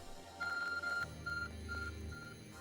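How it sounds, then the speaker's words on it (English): An ARC phone in Pokémon Legends: Arceus beeps in a series of short electronic tones, a few rapid pips then spaced repeats over quiet game music. "Your ARC phone is beeping."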